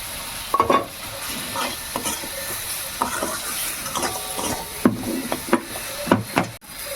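Green chillies stir-fried in a pan for a pumpkin and potato curry: a steady oily sizzle under repeated scraping and knocking of a spatula against the pan, close and fairly loud, with no talking.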